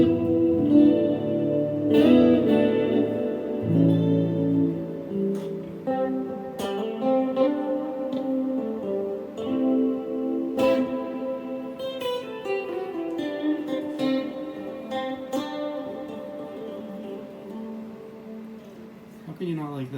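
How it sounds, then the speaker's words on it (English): Clean electric guitar chords through a Donner stereo delay pedal's reverb ring out with a lush, shimmering reverb and a wavering chorus-like modulation, notes sustaining and swirling into a wide, washy tail. "It's a reverb, but it adds a modulation effect like a chorus to the overall tone"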